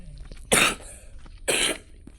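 A person coughs twice, about a second apart, each a loud, harsh burst close to the microphone, with quiet room noise in between.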